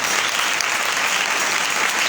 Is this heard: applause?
yes